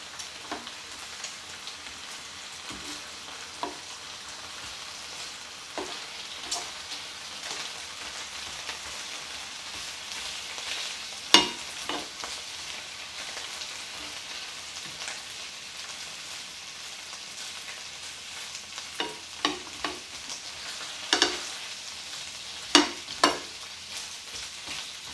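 Bacon fries in a pan with a soft, continuous fine crackle like light rain, broken by occasional louder pops and scrapes as strips are turned, fairly quiet and close.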